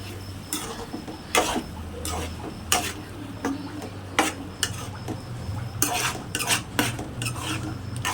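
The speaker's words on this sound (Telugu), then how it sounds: "అలా గిన్నెకి పట్టకుండా కొంచెం అప్పుడప్పుడు కలుపుతూ ఉండాలి." A spoon stirs tomatoes and green chillies cooking in a pot for tomato chutney, making irregular sharp metallic scrapes and clinks against the vessel over a soft, continuous simmering hiss.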